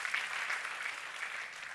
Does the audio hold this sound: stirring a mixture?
no